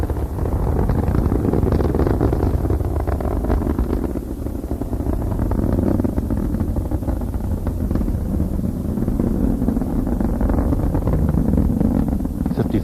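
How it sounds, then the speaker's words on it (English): Space Shuttle Endeavour's main engines roar continuously during launch as they throttle back up to full power after passing the sound barrier, a loud, steady, broadband rumble with wind buffeting and no speech. "The main engines beginning to rev back up to full throttle."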